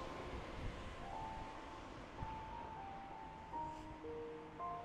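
Outdoor wind buffets a microphone with a low, steady rumble, rising in gusts at a few moments, while faint tonal sounds drift in the background.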